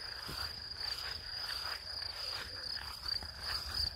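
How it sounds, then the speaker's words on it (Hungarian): A steady, high, continuous trill of crickets fills the air, with faint rustling and a low outdoor rumble underneath. "Ezt a tücsök ciripelés, Istenem, de jó."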